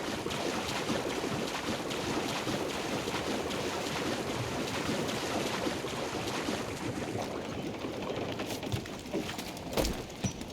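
Wind gusts and sea waves rush steadily around a sailing ship on open water in Assassin's Creed IV Black Flag, with a loud, continuous roar and occasional creaks and splashes near the end.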